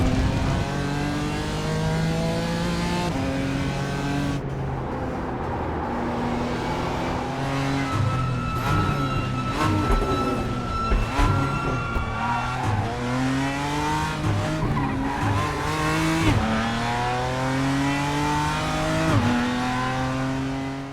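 A racing car engine in the iRacing sim revs hard through repeated upshifts and downshifts, loud and continuous, with rising and falling pitch sweeps and brief tire noise, with no talking.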